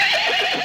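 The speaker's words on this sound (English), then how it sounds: "Yes, you are making the correct sound. You neigh. You are a horse." A horse neighs in a bright, wavering whinny that fills the whole short moment, loud and close, with no talking over it.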